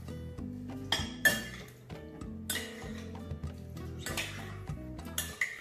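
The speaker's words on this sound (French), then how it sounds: "et je vais mélanger" Utensils clink and tap against a bowl while ceviche is mixed, irregular light knocks and scrapes, close and fairly quiet.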